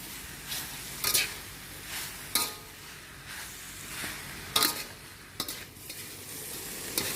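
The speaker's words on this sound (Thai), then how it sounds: "ผัดไปผัดมาเนี่ยเดี๋ยวน้ำก็ซึมออกค่ะ" Mixed mushrooms for a holy basil stir-fry are tossed in a hot pan: a steady sizzle runs beneath repeated scraping strokes of a spatula against the pan, with no voices.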